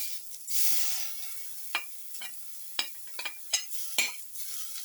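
Rice being added to a pot while making cardamom milk soup, a brief soft pouring rush followed by scattered light clinks and scrapes of a spoon against the pot over a faint sizzle, close and without talking.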